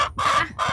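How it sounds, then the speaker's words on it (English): A silkie hen gives short, close clucks and chirpy calls in a backyard coop, two or three quick vocal bursts with no talking over them. "She's a silky chicken."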